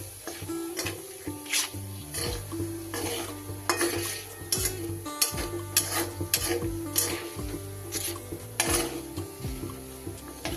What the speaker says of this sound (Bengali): এইবার এই তেলটা গরম হলে দিয়ে দেব আমি কিছু ফোড়ন। দিয়ে দেব দুটো শুকনো লঙ্কা, একটা তেজপাতা আর একটু জিরে।